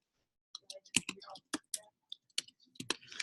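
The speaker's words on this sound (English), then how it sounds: "I'm typing a code word into the chat right now" Typing on a computer keyboard, close and quiet: a short burst of about a dozen light, irregular key clicks separated by brief pauses, with no talking.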